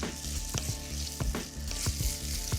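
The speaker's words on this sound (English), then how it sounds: "I love the smell of frying bacon" Bacon lardons sizzle and fry in a pan, a dense crackling hiss punctuated by sharp pops and spits, close and continuous with no voices.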